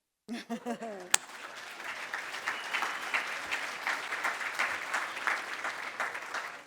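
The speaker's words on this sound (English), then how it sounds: "join me one more time in a round of applause" Audience applause fills a business achievement awards ceremony, a sustained wash of many hands clapping that starts after a brief voice and a sharp knock, holding steady and fairly loud throughout.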